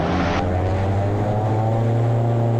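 Twin-engine Diamond DA42 propeller aircraft running at full takeoff power, a loud, steady drone with strong low harmonic hum and constant engine roar heard from inside the cabin throughout.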